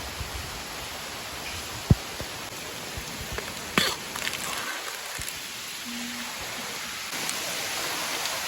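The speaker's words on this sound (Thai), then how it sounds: "ฝนตก" Steady rain falls in the hills, with a soft continuous hiss across the whole clip, a couple of sharp drop or tap sounds, and a brief rustle partway through.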